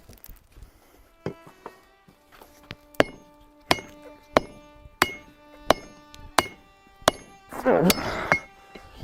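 A hand forging hammer strikes an anvil about a dozen times in a steady rhythm while forging a stake anvil, each blow ringing out metallically with a lingering bright tone.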